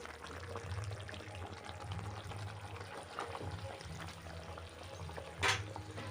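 Water poured into a simmering chicken curry seasoned with garam masala, giving a faint, steady bubbling and sizzling with soft liquid sloshing and one brief splash near the end.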